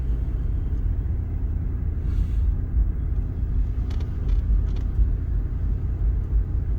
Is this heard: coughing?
no